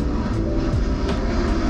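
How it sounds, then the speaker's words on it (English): An airplane revs up for takeoff near Okinawa, Japan, a steady low engine roar that swells slightly and fills the whole stretch without pause. "Ooh, plane is about to take off."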